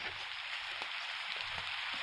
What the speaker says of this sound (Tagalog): Sana lumakas yung ulan.